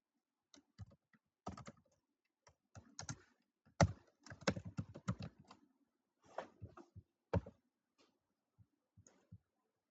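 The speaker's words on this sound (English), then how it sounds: "We're going to type in the word Alice." Typing on a computer keyboard: quiet, irregular clicks and clustered keystroke bursts in a silent room, close and soft, with short pauses between groups of presses.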